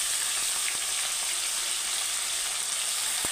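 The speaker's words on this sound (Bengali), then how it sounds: "তো মাংস, আলু, টমেটোটা অল্প ভেজে নিলাম" Meat, potato, tomato and onion sizzling in a pan for a village-style green chicken curry, giving a loud, continuous frying hiss with a few faint stirring clicks and no voices.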